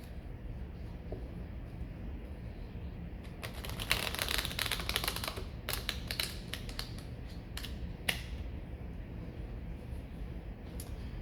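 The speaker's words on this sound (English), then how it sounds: "So I just need to shuffle it very well, so to make sure that the cards are completely shuffled." Cards being shuffled close by in a cluster of quick clicking flutters, with quiet background hiss before and after.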